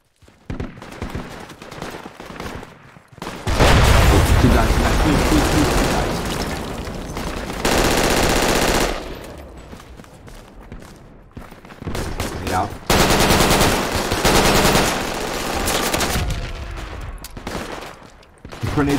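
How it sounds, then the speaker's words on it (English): Enemy gunfire in the military shooter Project Reality, long loud bursts of automatic fire and rapid shots separated by quieter gaps, some volleys close and intense, with occasional voices in between. "I think I heard enemy fire near Waypoint Bravo."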